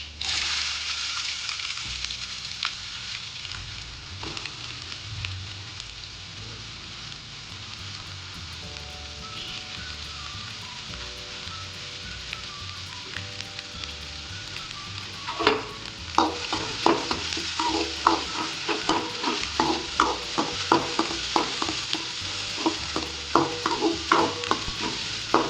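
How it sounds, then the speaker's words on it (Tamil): Spices and then onions fry in hot oil for a vegetable kuruma, giving a steady sizzle throughout that grows busier with stirring and scraping toward the end, with no talking. "ஸோ நம்ம இந்த ஸ்பைசஸ்லாம் உள்ளே போடலாம். அதுக்கப்புறம் ஆனியன்ஸ் போடலாம்."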